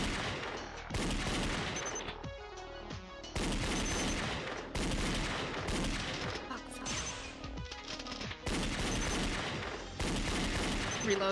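Danganronpa Another trial minigame: repeated bursts of punchy shooting effects come in loud blocks separated by short gaps, set over game music, with a voice speaking at times.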